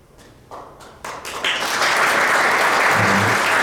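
Applause swells from scattered claps into loud, sustained clapping from a large audience honouring 77 alumni donors at a memorial ceremony and alumni foundation vision event.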